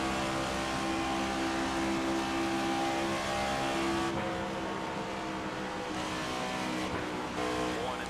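A NASCAR race car engine in the NASCAR 25 game drones loud and steady at high revs, with a brief dip and shift in pitch partway through, holding close and continuous throughout.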